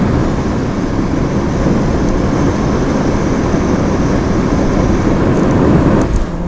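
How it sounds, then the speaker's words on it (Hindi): A dense, roaring buffet of wind hits the microphone without letup, loud and close, masking everything else, on the Delhi-Mumbai Expressway. "भाई बहुत तेज हवा चल रही है बाहर"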